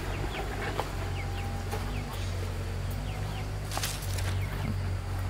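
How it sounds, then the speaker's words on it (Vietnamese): Farmyard chickens, including roosters and hens, cluck and call intermittently over a constant low mechanical hum, with occasional sharp calls and faint background movement. "Gà trống gà mái đã to hết rồi"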